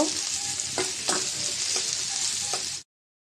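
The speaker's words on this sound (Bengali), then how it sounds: "পেঁয়াজটা হালকা করে একটু ভেজে নেব।" Chopped onion pieces sizzle in oil in a wok while a spatula stirs them in several brief scrapes, then the sound cuts off abruptly.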